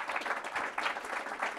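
Brief burst of audience applause for three speakers at an insurance-regulation workshop session, dense clapping at moderate level with a faint murmur underneath.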